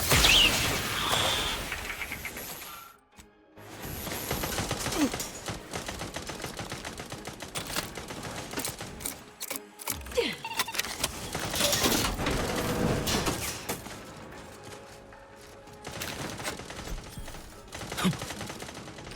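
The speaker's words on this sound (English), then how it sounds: "Guns!" Gunfire in the video game The Outer Worlds 2, bursts of sharp shots and rapid automatic fire with brief silent gaps and mechanical clicks, loud and close throughout.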